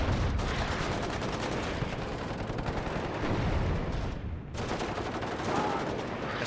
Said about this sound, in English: You hear their MG3s firing along with their G3s.